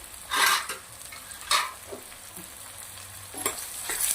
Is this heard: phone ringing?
no